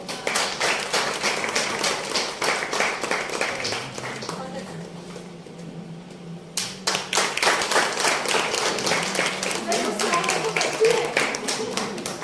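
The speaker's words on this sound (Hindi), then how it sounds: "एक बार जोरदार तालियां हो जाए।" Audience at an art and poetry gathering breaks into loud clapping, a dense rapid patter that dips briefly in the middle while someone speaks, then surges again.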